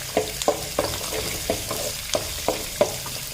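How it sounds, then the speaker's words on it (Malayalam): Onion, garlic and green chilies sauté in a pan for Tamil Nadu style tomato chutney, with a steady close sizzle broken by regular spatula scrapes about three times a second. "ഉള്ളിയുടെ കൂടെ തന്നെ നമുക്ക് ഈ വെളുത്തുള്ളിയും പച്ചമുളകും കൂടി ഇട്ട് കൊടുക്കാം"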